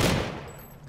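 A single loud burst of gunfire in the video game Call of Duty: Ghosts, an immediate sharp crack that decays quickly into a fading tail.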